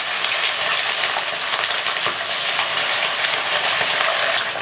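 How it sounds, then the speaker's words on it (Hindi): Fish frying in hot oil in a karahi, a steady, dense, close sizzle that stays loud and even throughout with no talking over it. "ये देखिए, ऑयल हमारा गर्म हो गया है। अब हम इसमें मछली डालते हैं।"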